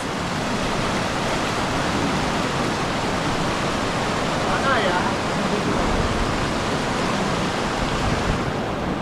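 A strong river current rushes past near the Coto Mines in Masinloc, Zambales. It makes a loud, steady, broadband roar that fills the whole clip, with a brief faint voice in the middle.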